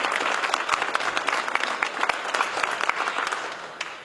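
An audience at a municipal exhibition inauguration applauds the children's municipal council, a dense, steady clapping that continues throughout and fades slightly at the end.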